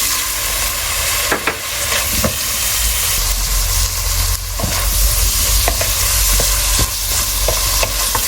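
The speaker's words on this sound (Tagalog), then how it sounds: "cook the minced pork until it's no longer pink in color" Minced pork sizzles and fries in a pan with miso paste and cooking sake, a steady close hiss broken by a few sharp scraping stirs.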